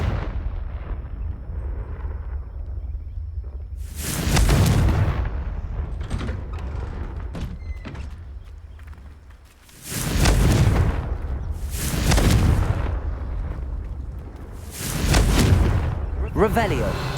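Confringo spell blasts in the Hogwarts Legacy video game, four loud booming explosions spaced several seconds apart over a low rumbling background, with some speech between them.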